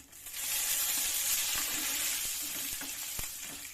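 Raw ginger and garlic frying in hot oil for a tomato chutney, a steady close sizzle and hiss with occasional crackles and a few stirring taps, no voices.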